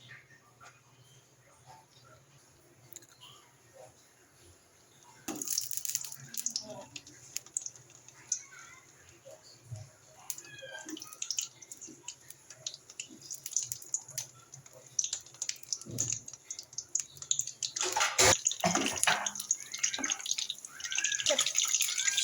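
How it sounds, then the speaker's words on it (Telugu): Brinjal fritters deep fry in oil. The sizzle starts abruptly and builds into dense, bubbling crackling that grows louder toward the end. "వీటిని మంచి ఆయిల్లో డీప్గా ఫ్రై చేస్తున్నాం"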